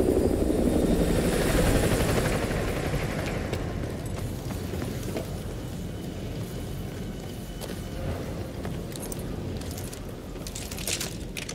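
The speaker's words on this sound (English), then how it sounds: "Enemy helo patrolling the perimeter." An enemy helicopter patrols overhead in the Call of Duty Modern Warfare 2 campaign, its rotor a loud steady thrum that fades slightly while small metallic clinks and rattles surface near the end.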